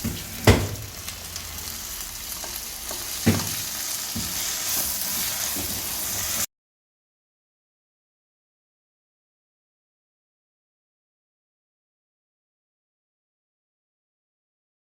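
Chopped tomatoes sautéing with ginger and garlic in a pan for a village-style egg masala curry, a continuous close sizzle with a few sharp stirring knocks, ending abruptly in silence midway.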